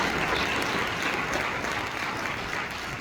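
Church congregation at a Sunday service breaking into applause, a dense, continuous wash of many hands clapping at once, close and full, easing slightly toward the end.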